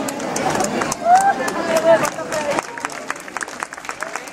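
A crowd applauds a race award winner at a 10K prize ceremony, steady clapping building and fading across a few seconds, with some crowd noise underneath.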